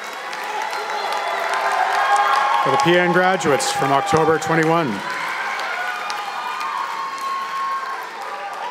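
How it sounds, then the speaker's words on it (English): Audience applause for nursing graduates at a fall graduation ceremony, steady clapping throughout while a voice speaks over it partway through. "Let's have a big round of applause"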